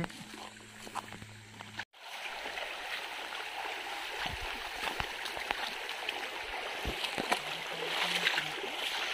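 Iringan River in Pagbilao, Quezon rushing steadily as a broad, continuous stream wash, with a brief break near the start and faint voices now and then beneath the flow.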